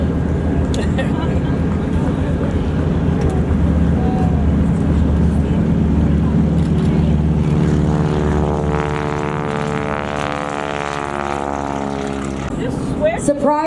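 A World War I propeller airplane makes a pass at an airshow, its engine drone swelling as it nears and then holding steady and loud; a voice talks over the engine.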